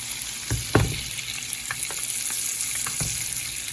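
Salmon fillet frying in a pan while being basted with butter sauce, a steady soft sizzle with occasional louder spoon clinks and splashes as the sauce is spooned over.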